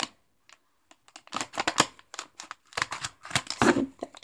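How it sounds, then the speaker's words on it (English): Scissors snip open the top of a plastic Lego minifigure blind bag, a run of close, crisp cuts and crinkling plastic, with no talking. "snip that top off"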